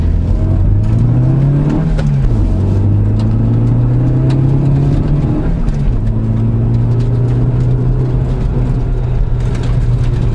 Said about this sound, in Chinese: 轮胎声很吵，然后它会粘很多石头上来，我整个轮拱里面都是滴滴答答很多石头的声音。